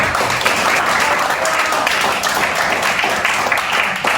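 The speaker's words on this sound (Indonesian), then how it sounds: "Tepuk tangan dulu untuk Kansa." Classroom applause for a student named Kansa after she sums up the day's lesson, steady dense clapping from a group of pupils lasting several seconds at close range.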